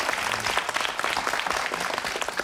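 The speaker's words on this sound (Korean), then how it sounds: "박수 한번 보내주십시오" A studio audience on a Korean TV variety show featuring an Air Force aerobatic team and its fan club claps steadily, a dense, even wash of applause sustained throughout.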